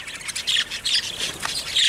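Young hatchling chicks call close by in a breeding setup, a run of shrill, raspy squawking cheeps in rapid overlapping bursts.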